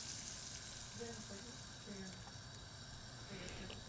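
Garlic browned in ghee sizzles as the tarka is poured into lentils for dal, a soft continuous frying hiss with faint stirring, quiet and steady throughout.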